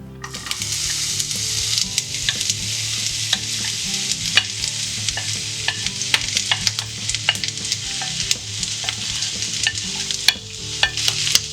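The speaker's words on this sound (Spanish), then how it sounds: "Ponemos una sartén a calentar con un poco de aceite y echamos dentro las cebollas." Onions fry in oil in a frying pan for an onion sauce, a steady hiss of sizzling broken by frequent sharp scrapes and taps of a utensil stirring them, close and moderately loud.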